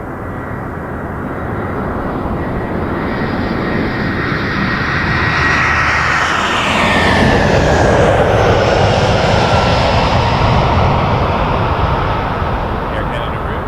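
Air Canada Rouge Airbus A320 airliner lining up for departure on a runway, its engines giving a loud, steady roar that slowly swells and shifts in pitch over several seconds, with no other sounds over it.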